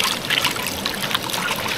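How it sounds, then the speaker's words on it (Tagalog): Strong current of clear water rushing through a forest stream near a tree, a steady close splashing trickle that fills the short stretch with no voices. "Ang lakas ng agos guys."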